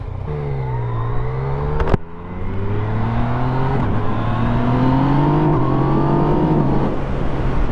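A Yamaha MT-09 SP motorcycle engine revs and pulls through rising gears, loud and close, with a sharp blip near the two-second mark and a steady climbing drone after it, with no talking.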